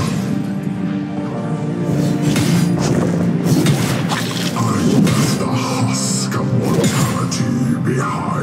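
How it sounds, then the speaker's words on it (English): Turret destruction in the Wild Rift mobile game, with a loud booming explosion and crashing impacts layered over continuous game music and effects, dense and sustained throughout. "enemy turret destroyed."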